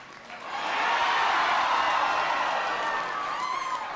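A rally crowd in Kotzebue cheers and applauds loudly and steadily at a political event, a dense wash of clapping and shouting that swells quickly and holds throughout.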